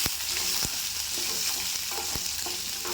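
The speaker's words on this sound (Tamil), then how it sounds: "இந்த வெங்காயம் பூண்டெல்லாம் பாதி வதங்கினா போதும்" Whole shallots and garlic sauté in a hot pan for a quick idli-dosa side dish, with a steady sizzle and sharp scraping stirs of a spoon against the pan, near and continuous.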